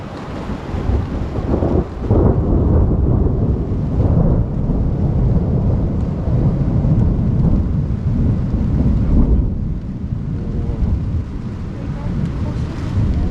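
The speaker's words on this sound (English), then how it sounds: "Just saw lightning and just heard thunder." A low rumble of thunder rolls through heavy wind and steady rain in the Canadian wilderness, a loud, continuous storm close around a tent.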